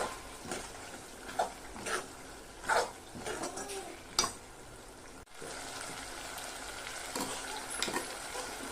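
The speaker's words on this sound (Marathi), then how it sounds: "आता याच्यातच आपण मटकी घालून घेऊया आणि 5 मिनिटं परतायची आहे" Moth beans (matki) are stir-fried in hot oil for a usal, a soft steady sizzle broken by scraping stirs of the spoon at irregular intervals, with no one talking.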